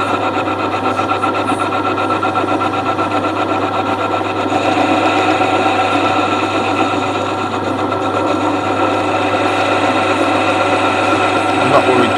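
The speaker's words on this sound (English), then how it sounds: "This is why we left the shaft slightly oversized, so we can turn it down to get rid of all the gouge marks." Lathe turning down an oversized shaft to remove gouge marks, producing a loud, continuous motor hum with steady grinding and cutting noise close by, unbroken throughout.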